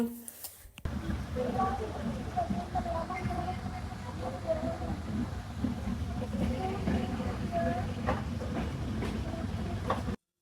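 Steady rumble and clatter of a moving train carriage on a trip to Kurunegala, Sri Lanka, continuous throughout, with occasional chirps and people talking underneath.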